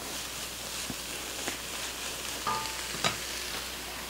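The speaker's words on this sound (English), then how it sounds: "Mix them with the turkey and onions and all the nice seasonings that we've added here." Ground turkey and onions with seasonings are stirred in a pan, giving a soft, quiet sizzle broken by a few scraping taps of the utensil against the pan.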